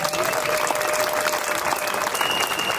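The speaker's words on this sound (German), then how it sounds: "Habt ihr nochmal einen großen Applaus" Outdoor crowd at a Monday demonstration in Zittau breaks into dense, continuous applause, loud and close, with a few scattered voices mixed into the clapping.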